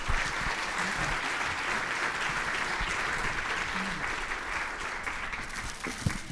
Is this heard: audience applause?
yes